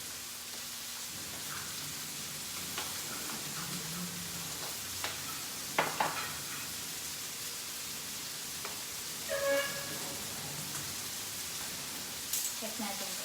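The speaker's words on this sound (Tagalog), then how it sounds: "so while sinasauté yung mushroom" Mushrooms sautéing in a pan, seasoned with salt and pepper, with a steady soft sizzle throughout, occasional scrapes and stirring clatters on top.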